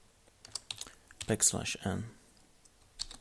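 Keyboard typing as someone enters a line of Perl code, bursts of clicky keystrokes scattered through the clip with someone talking over the middle of it.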